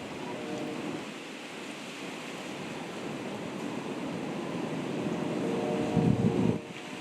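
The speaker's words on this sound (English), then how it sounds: "It's still pretty windy." Wind blows outdoors in a deer-hunting setting, a steady rushing wash with microphone buffeting that swells near the end, with no one talking.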